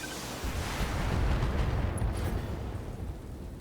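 Weapons fire hits and destroys a turret in the BattleTech video game, making a long, heavy, rumbling blast that swells and then slowly fades over a few seconds, loud and with no talk.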